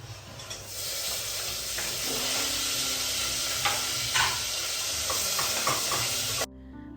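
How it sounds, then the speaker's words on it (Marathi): Onion and tomato frying in a pan for a mutton dish, a steady close sizzle with occasional stirring scrapes and clicks, no talk. "त्याची फोडणी टाकते मी कांदा टोमॅटो जो आहे ते इकडे मस्त भाजून घेते"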